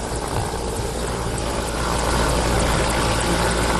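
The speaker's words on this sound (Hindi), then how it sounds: "भारी सामान को इंडियन एयरफोर्स के मी-17 हेलीकॉप्टर से लाया जाता" Indian Air Force Mi-17 helicopter, Russian-built, at Siachen base camp, a loud steady rotor and engine roar that swells slightly, close by and alone.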